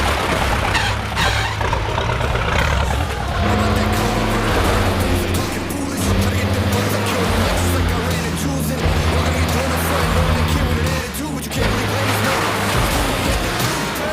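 A 1981 Toyota Land Cruiser rumbles along on the road, its engine and road noise loud and steady throughout, with a voice talking over the drive.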